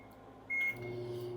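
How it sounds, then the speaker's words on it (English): A VEVOR commercial microwave oven runs with a steady low hum while warming soup, and a single clear electronic beep sounds midway before the quiet drone carries on. "See the timer counting down and that the microwave is operating."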